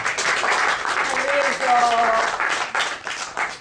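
Audience applause for a painter at a 'Maggio dei libri' book event, a brief burst of clapping mixed with talk and a voice over it, steady throughout.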